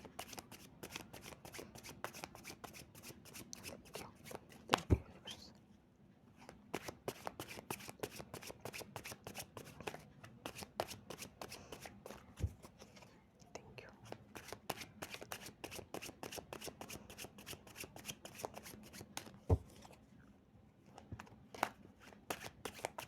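Tarot cards are shuffled in rapid, crisp riffles of flicking card edges, repeated in several bursts with brief pauses, close to the listener.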